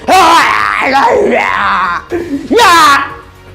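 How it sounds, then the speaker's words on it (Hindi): Loud, close screaming and wailing from protesters, with long drawn-out cries, a short break, then another shrill yell. "वो ऐसे ही चीखते चिंघाड़ते हुए आते हैं।"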